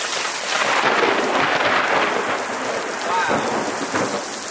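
A Florida thunderstorm pours heavy rain onto surfaces in a dense, steady hiss, while rolling thunder rumbles underneath and swells in loud bursts, with no voices.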